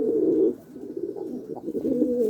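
Young male Miro Kepez pigeons coo close by, a strong throaty rolling coo at the start followed by softer repeated cooing and small murmurs, with no talking.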